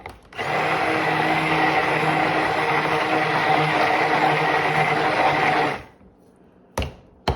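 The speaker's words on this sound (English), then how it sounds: "A lot of times when you use stick blender too," A stick blender's steady, loud whirring motor runs for several seconds mixing cold process coconut milk soap, then cuts off, followed by a couple of brief clunks.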